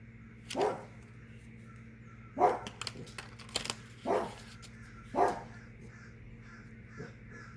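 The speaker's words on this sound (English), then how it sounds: "Crows." Crows cawing outdoors: several separate harsh calls spaced a second or so apart, moderately near, over a steady low background hum, with no talking.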